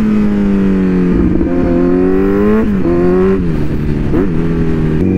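A Kawasaki Z900 motorcycle engine pulls hard under throttle, its deep tone climbing in pitch through several runs with brief dips at gear changes, close and loud, with no voices.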